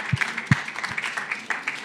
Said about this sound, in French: Alors, on peut l'applaudir évidemment